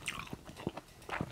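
Crunchy bites and chewing of Thai papaya salad with mushrooms come through close to the mic: a handful of sharp crisp crunches spaced unevenly, with no talking.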